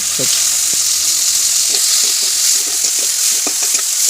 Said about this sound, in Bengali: কড়ার মধ্যে এবার পেঁয়াজটা দিয়ে দেবো। পেঁয়াজটাও ভালো লাল লাল করে ভেজে নেবে।